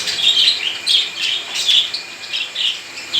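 Pet parrots and small caged birds call and squawk together, loud, continuous and close, with repeated sharp bursts and no talking.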